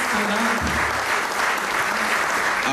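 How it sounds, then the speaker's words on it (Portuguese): Steady applause from a congregation at a London church thanksgiving service marking Angola's independence anniversary, loud and continuous throughout, with a low voice briefly heard underneath near the start. "Aplaudimos, mas não está."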